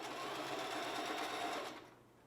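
A sewing machine back stitches a ribbon skirt, running in a steady, fast, loud whir for almost two seconds before stopping abruptly, close and with no voices.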